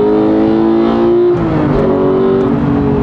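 A Porsche 991.2 GT3 engine revs hard toward 9000 rpm, a loud, close, steady high-pitched howl that shifts pitch partway through as it climbs again, with no one speaking.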